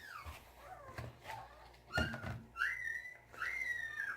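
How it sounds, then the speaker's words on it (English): A dog whines in high, wavering tones, with several drawn-out whimpers rising and falling over faint background noise. "And you can hear Max whining in the background."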